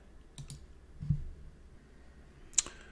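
A computer mouse right-click on a desktop while working in dental tooth-shade software, heard as a few faint, sharp clicks spread across a quiet background.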